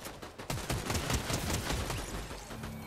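Rapid pistol shots ring out in a Fortnite match, a dense burst of loud cracks and overlapping echoes lasting a few seconds.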